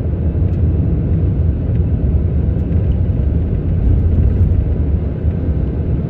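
A 2022 Ford Maverick FX4 AWD with a 2.0 turbo climbs a snowy Montana interstate at about 50 mph, heard from inside as a loud, continuous low rumble of engine and road noise with no talking.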